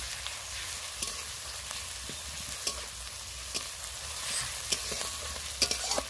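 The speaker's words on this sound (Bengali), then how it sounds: "দেখো আমার পেঁয়াজ আর রসুন কেমন লাল করে ভাজা হয়েছে।" Onions and garlic paste frying in a pan for a goat meat curry, a steady broadband sizzle with a few light clicks of stirring throughout.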